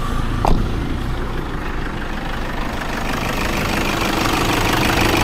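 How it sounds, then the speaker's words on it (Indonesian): A 2014 Toyota Fortuner VNT diesel engine idles steadily and loudly up close, a continuous low clattering rumble with one brief click near the start. "Nah, ini untuk suara mesinnya. Sekilas suaranya normal, nggak ada yang aneh-aneh"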